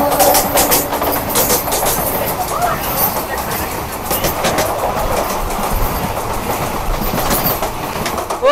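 The Kolkata–Sairang Express rolls along the rails near Ranaghat, a loud, constant rumble with a rhythmic clickety-clack of wheels on the track. A voice talks over the train noise.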